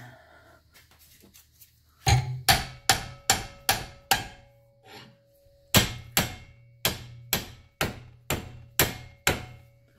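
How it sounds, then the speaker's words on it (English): Repeated hammer blows on mini bike parts during disassembly, a loud metallic strike roughly every half second in two bursts with a short pause between, ringing sharply and close by. "I'm using the force of a hammer to tighten it more than it is."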